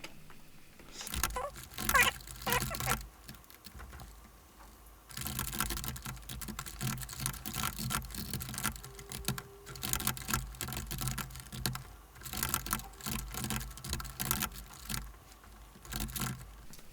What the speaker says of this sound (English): Next, we'll type in a few commands, download a few things for our instance.